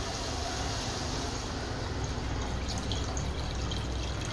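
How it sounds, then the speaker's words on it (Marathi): Tamarind water is poured into a masala of spices cooked until the oil separates, a steady loud splashing pour that runs without pause and with no talking. "आता आपण त्याच्यात चिंचेचं पाणी टाकू, जो आपण अगोदर तयार केला होता."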